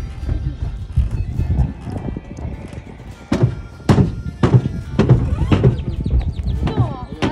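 Horse being moved by trailer stamps and bangs its hooves on the trailer floor, several loud hollow thuds in an irregular burst near the mic, with people talking between the knocks.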